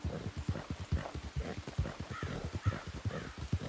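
Hooves of a seal brown Thoroughbred clip-clop at a steady gallop in the game Red Dead Redemption, a close, rapid, rhythmic drumming that continues without break.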